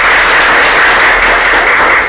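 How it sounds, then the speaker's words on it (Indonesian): A loud, dense wash of audience clapping fills a public gathering in Surabaya, a steady crackling roar with no pauses, close and continuous throughout. "Tepuk tangan untuk"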